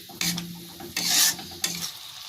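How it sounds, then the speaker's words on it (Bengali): A spoon stirring and mixing egg and paneer with ground coriander leaves in a pan, three scraping strokes over a soft sizzle, close and moderately loud. "ওটাও নাড়াচাড়া করে ভালো করে মিশিয়ে নিচ্ছি।"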